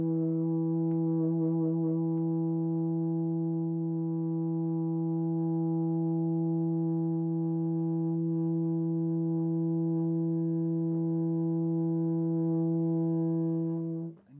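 A euphonium sustains one long, steady, pure tone without vibrato, rich in even harmonics and unchanging in loudness for about fourteen seconds before stopping abruptly.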